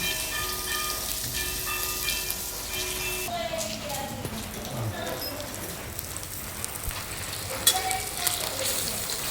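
Roe-filled fish frying in oil in a pan, a steady crackling sizzle running throughout under faint background voices and clatter.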